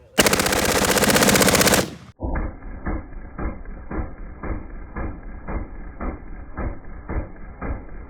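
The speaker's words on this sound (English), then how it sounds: "A lot of times when you're firing a gun, you'll see that explosion kind of come out of the front of the barrel." Repeated gunfire in a rapid, steady rhythm of evenly spaced shots, loud and close, after a brief burst of harsh noise at the start, with no talking.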